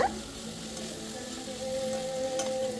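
Tomatoes and onions sauté in oil for crab masala, a soft, steady sizzle close by with light stirring and no talking.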